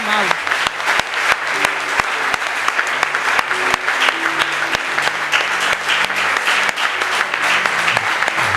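A church congregation bursts into sustained applause for the Lord during a worship service, with loud, dense clapping from many hands and a voice carrying over it.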